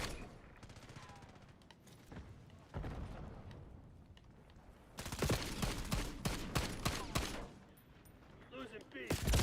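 Bursts of rapid gunfire and heavy impacts rattle through a Call of Duty style match as the Archangel killstreak fires, dense volleys swelling in the second half over a quieter stretch and a game announcer voice.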